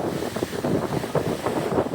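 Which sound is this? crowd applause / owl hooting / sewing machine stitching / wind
wind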